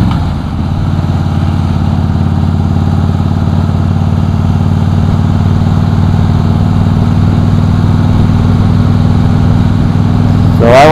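A 2008 Harley-Davidson Crossbones with a Prism Tube exhaust idles close by, a loud, steady, deep rumbling drone that holds evenly throughout and picks up slightly at the very end.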